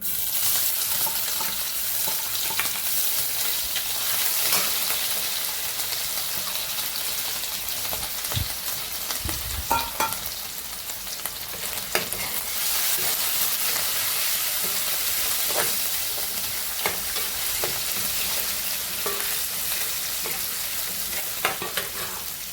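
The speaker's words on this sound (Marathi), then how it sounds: "आता आपलं तेल टाकलेलं आहे त्यामध्ये आपण लसणाची पेस्ट टाकू" Ginger-garlic paste spits and sizzles in hot oil in a pan while it is stirred, for a curry of stuffed dumplings. A continuous close frying hiss carries occasional utensil taps and scrapes, and no one speaks.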